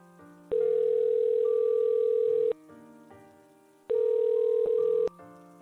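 A phone tone sounds after the call button is pressed: two long steady electronic beeps separated by a gap, loud and close against a low background hum.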